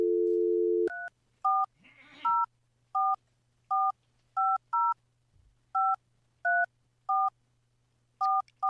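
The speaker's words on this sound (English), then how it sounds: "So, Kev, go ahead and call Senator Baldwin, please." Telephone dialing: a steady dial tone cuts off, followed by a string of about fourteen short, evenly spaced touch-tone beeps, clear and loud with no talk.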